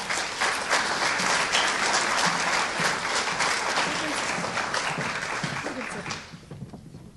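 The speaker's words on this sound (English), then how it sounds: "these kids another round of applause" A banquet crowd at a 2022 FFA awards event applauds the kids with loud, dense clapping that holds steady for about six seconds and then fades out.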